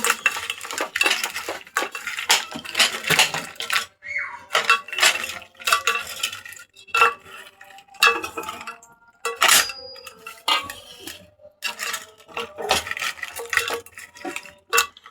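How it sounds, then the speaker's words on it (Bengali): Shrimp being hand-mixed with salt and turmeric powder in a metal bowl, producing close, irregular clinks, scrapes and squelchy rubbing in bursts separated by brief pauses. "এখন আমি লবণ এবং হলুদের গুঁড়ো দিয়ে মাছগুলোকে মেখে নিচ্ছি।"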